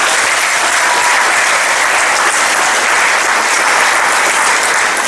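Audience applause fills a school speech day hall, a steady dense clapping from a large crowd that holds loud and unbroken throughout with no voices over it.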